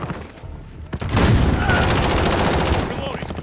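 Rapid gunfire in Call of Duty Modern Warfare during a 10v10 team deathmatch: a sharp shot, then a dense, loud burst of continuous automatic fire with booms, and a player talking over the barrage.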